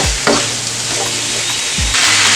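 Minced vegetables sizzle and fry in a pan alongside dodo, with a spatula scraping and stirring a few times through the steady crackle.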